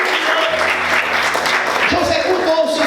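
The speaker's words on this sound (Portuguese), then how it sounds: "Você pode aplaudir Jesus." A church congregation applauds in a broad, sustained wash of clapping, with a voice speaking over it partway through.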